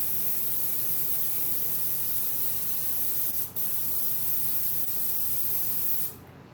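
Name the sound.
airbrush spraying ink on a mask's fur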